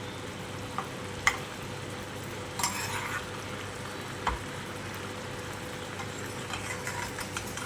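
Bombay duck (bombil) cutlets frying in a pan, a continuous soft sizzle and crackle with a few sharp taps and spatula scrapes, heard up close without talk.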